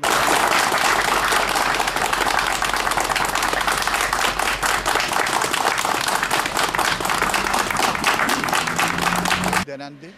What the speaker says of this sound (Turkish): grup kararı alkışla protesto ettiler